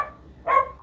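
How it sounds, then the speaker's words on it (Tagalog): A pet dog gives a single short, fairly close bark after a faint earlier yelp, excited because its owner's father has arrived home. "Yung aso namin si Alden, natutuwa na naman kasi nandiyan yung papa namin"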